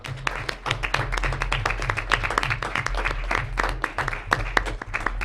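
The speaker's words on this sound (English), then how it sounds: "So I want to give our staff a big round of applause for this." A city council chamber erupts into a few seconds of scattered, moderately loud handclapping from the gathered audience, layered over a low steady hum in the room.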